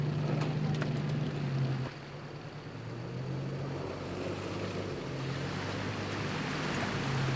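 A 4WD vehicle idles slowly along a rough bush track on a Victorian touring route, giving a steady low engine drone that dips slightly in level partway through, with wind and rumble around it.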